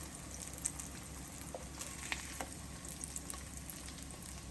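Slices of Spam fry in a pan with a steady, quiet sizzle and crackle, scattered small pops breaking through the continuous hiss, heard close with no talking.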